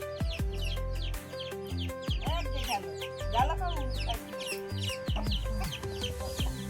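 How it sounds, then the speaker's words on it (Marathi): A flock of desi hens on a poultry farm in Nagpur cluck and squawk in overlapping, irregular bursts over a steady low hum, fairly faint and close, with a person speaking among them. "ह्या आपल्या घरच्या कोंबड्या इतक्या साऱ्या कोंबड्या"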